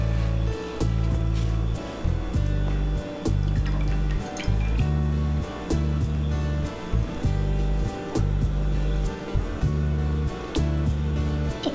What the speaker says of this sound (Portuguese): Agora a gente molha na água.